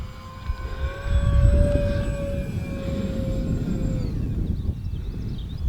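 An E-Flite Twin Otter radio-controlled model airplane whines steadily overhead, its pitch holding high then dropping as it passes, with gusty wind noise underneath.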